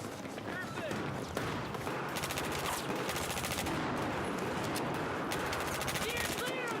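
Rapid bursts of video-game gunfire crackle almost nonstop in a pistol-only match, layered with dense battle noise and effects throughout.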